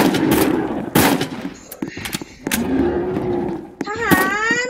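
Loud bursts of gunfire hit a dinosaur in the Roblox game Dinosaur Hunter, with sharp repeated shots mixed with deep bellowing creature calls.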